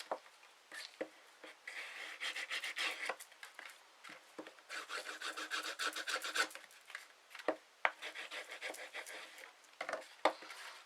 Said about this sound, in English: Just give that a bit of a burnish.